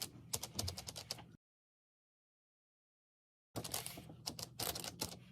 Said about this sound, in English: I keep typing this every video